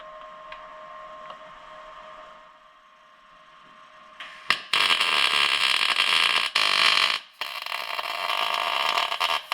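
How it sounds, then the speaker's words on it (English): Tack welding a nut onto a seat mount on a 1947 Plymouth Special Deluxe P15: a loud crackling, hissing arc bursts in after a quieter start, with two brief gaps, running steadily to the end. "Let's tack this nut in there."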